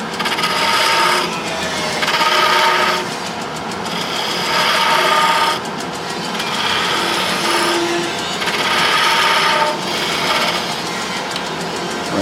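A skew chisel cuts a long, thin wooden spindle turning on a lathe, with several bursts of rasping, hissing cutting that swell and fade over the steady hum of the machine.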